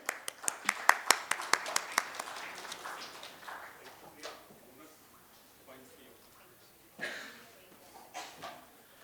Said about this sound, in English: Round of applause for our DG.